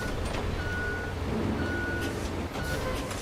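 In the Roadcraft video game, a vehicle gives repeated evenly spaced beeps, moderately loud over a low engine drone and faint background noise.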